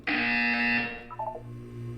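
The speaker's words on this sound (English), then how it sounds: "You will hear a buzzer." A buzzer sounds in an Aperture Science test chamber in the video game Portal 2: a single loud electronic tone holds for about a second, then short softer beeps follow and a low hum trails off.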